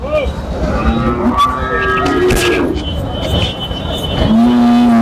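Bulls at Bamundi livestock market, with several loud, close moos rising over a busy background of market chatter and crowd noise.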